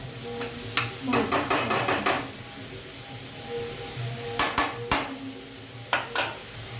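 Onion softening in oil in a pan for a garlicky fenugreek-leaf dish, stirred with a spatula: a steady low sizzle under a quick run of about six scraping, clinking strokes, then a few more scattered clanks near the end.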